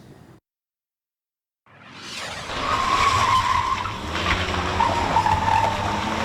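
Akron police cruiser braking hard and skidding during evasive driving training, a loud, sustained tire squeal building up after a brief silence and continuing with engine noise.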